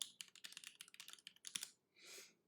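Fast, clacky typing on a mechanical keyboard, a dense run of crisp keystrokes close by, then a pause and a brief soft whoosh.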